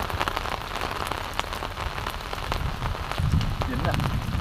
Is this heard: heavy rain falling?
yes